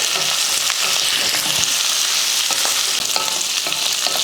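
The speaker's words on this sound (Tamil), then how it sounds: "ஒரு ஆறு வரமிளகாய் சேர்த்துக்கிறேன் மூணு பல் பூண்டு ஒரு சின்ன சைஸ் இந்த மாதிரி குட்டி சைஸில் புளி இதெல்லாம் நல்லா வதக்குவோம்" Dried red chillies, garlic cloves and a small piece of tamarind sauté in a hot pan, giving a steady close sizzle broken by the scrape and knock of stirring.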